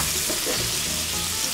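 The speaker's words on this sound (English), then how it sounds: "Look at that sizzle." A beef burger sizzles loudly in a hot buttery pan, a steady crackling hiss close to the listener.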